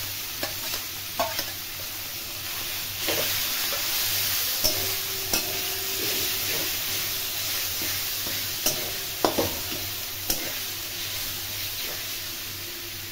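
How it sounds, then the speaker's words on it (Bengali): Lentil dumplings (bori) and poppy seeds fry in a pan with a steady sizzle while red saag is added, a spatula stirring and scraping in scattered clinks throughout, with no talking. "বড়ি আর পোস্তটা ভাজা হয়ে গেলে আমি লাল শাকগুলো দিয়ে দিচ্ছি"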